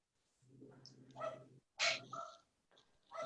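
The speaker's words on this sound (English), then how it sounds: "I don't know if anybody can hear my dog barking in the background." A dog barks and yips in the background, several short, muffled barks and whines at moderate distance, irregularly spaced, with no talking over them.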